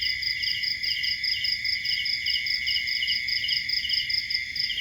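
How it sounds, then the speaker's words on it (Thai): Steady, dense cricket chirping fills the air without pause, a high shimmering trill layered over a faint low rumble, with no voices. "ฟังเสียงธรรมชาติจิ้งหรีดร้องเสียงแมลงต่างๆร้อง"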